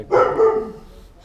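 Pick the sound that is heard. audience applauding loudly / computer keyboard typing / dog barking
dog barking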